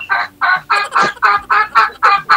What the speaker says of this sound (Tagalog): Tumatawa yung manok.